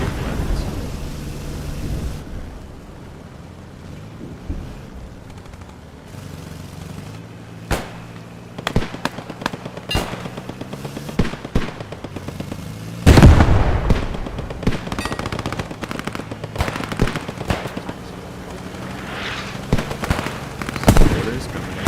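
Strafing air attack explosions in the World War II game Squad 44 rumble and crack in a rapid burst of blasts, loud and close, after a quieter stretch of battlefield ambience, with voices on the comms at times.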